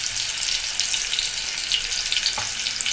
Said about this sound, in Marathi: बघा, तेल तापलंय आपलं. त्याच्यात कांदा टाकायचा